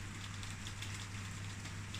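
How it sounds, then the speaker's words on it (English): Steady rain pouring in through an open bedroom window, a dense even hiss of drops with a low constant hum underneath, no voices. "I better shut that window because I think there's rain coming in my room."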